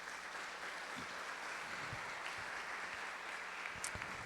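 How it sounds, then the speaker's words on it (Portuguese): A church congregation gives a round of applause for Jesus, a moderate, continuous patter of many hands clapping at some distance in a reverberant hall, with a few sharper claps standing out. "Dê uma salva de palmas para Jesus"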